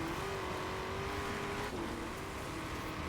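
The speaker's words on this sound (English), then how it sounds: "I truly can't believe how well the acceleration is for this car." Car engine in Forza Horizon 4 held at a steady, sustained drone with a faint rising pitch, heard continuously at moderate loudness with no speech.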